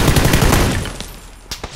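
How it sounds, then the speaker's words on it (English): Bursts of rapid gunfire in an online shooter video game, a dense volley at first that fades, then a couple of isolated shots, with no talking. "I think those guys plan to shoot at Nick."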